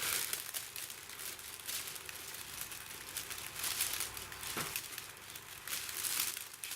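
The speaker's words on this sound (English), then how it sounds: "I can slide my scissors like so" Scissors snip through a crinkly foil survival blanket, producing continuous crackling and rustling with soft cutting clicks, close and fairly quiet.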